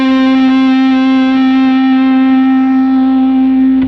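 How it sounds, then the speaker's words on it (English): An electric guitar rings out a single sustained, distorted note with classical vibrato, the pitch rocked side to side without bending. Loud, close and alone, it holds steady before stopping abruptly. "you can also do a classical vibrato, which is simply holding the note without bending it and just moving it side to side"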